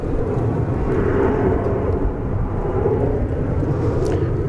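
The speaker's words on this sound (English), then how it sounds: "UP Foamer says the A340 just passed Providence Village, so it is in the vicinity here." An Airbus A340 airliner flies near DFW Airport, producing a loud, continuous low jet roar that holds steady throughout with no talk over it.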